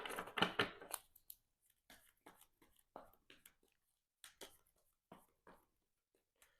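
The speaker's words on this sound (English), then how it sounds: "let's shuffle up the player deck here." A deck of playing cards is shuffled for a solo card game: a dense riffle of rapid flicks at the start, then scattered soft slaps and taps as the cards are squared and handled, close and quiet.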